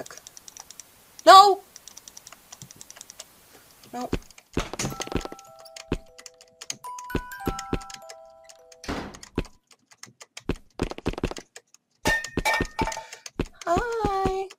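Computer keyboard keys click in irregular bursts while someone plays a horror game about an evil doll, close and crisp, with game sounds and occasional talk mixed in.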